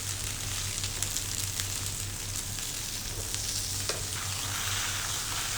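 Potato rosti fries steadily in a pan over medium heat, a continuous close sizzle with a low hum beneath and a few faint clicks.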